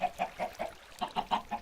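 Chicken clucking in the Minecraft video game: about eight short, evenly spaced clucks in a steady rhythm, moderately loud and close, with no talk.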